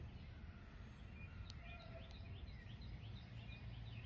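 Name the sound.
birds chirping in the morning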